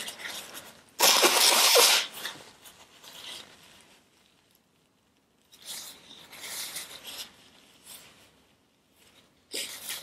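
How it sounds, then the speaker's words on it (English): A loud, close sneeze bursts out early, followed by softer rustling and sniffing sounds and a few more bursts of breathy noise. "I feel a sneeze coming and I don't like it."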